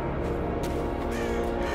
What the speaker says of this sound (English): Got birds here too.